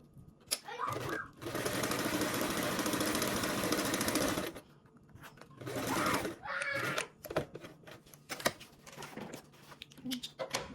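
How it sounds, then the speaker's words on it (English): Sewing machine topstitching along seams of a garment, one sustained run of rapid stitching for about three seconds, then shorter bursts, with a voice talking and fabric handling in the quieter gaps. "We're now going to go ahead and top stitch along these three."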